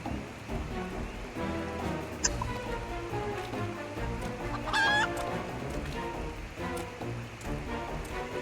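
Chickens clucking at an Easter festival event in the video game Final Fantasy XIV, repeated clucks and squawks over soft rain-like ambience and background music, with one sharper squawk midway.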